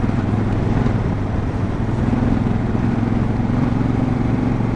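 Honda Africa Twin motorcycle on extreme knobby MotoZ Tractionator adventure tires riding over gravel, a steady close engine drone with continuous tire and wind rumble throughout, no pauses.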